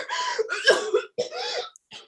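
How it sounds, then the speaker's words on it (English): A woman coughs hard several times in quick, harsh bursts, close and loud, with a short gap before a final cough. "She begins coughing violently"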